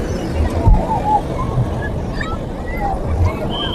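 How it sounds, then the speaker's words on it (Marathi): Boat ride at Juhu beach, Mumbai: a steady wash of water, wind and motor rumble, fairly loud and continuous, with voices chattering in the background. "बोट रायडिंग"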